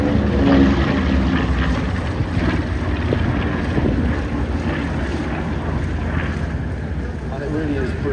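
Twin-engine B-25 bomber flying at an airshow, a steady broad propeller drone mixed with wind rumble that holds at a fairly constant loudness throughout, with no voices.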